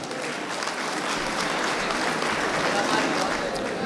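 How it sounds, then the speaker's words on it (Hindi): Sustained applause from a large audience at a mushaira poetry gathering in Yavatmal, a steady dense clapping wash filling the hall throughout, fairly loud and continuous with no pauses. "वो माइक पर आएँ तालियां बजती रहनी चाहिए।"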